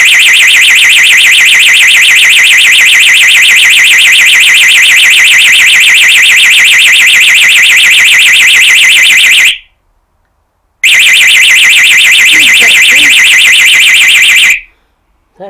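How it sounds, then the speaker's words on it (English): A Texecom external alarm sounder blares at full volume with a rapidly warbling electronic siren, very loud and close. It cuts out once for about a second, resumes, then stops abruptly near the end. "Let's test the sounder."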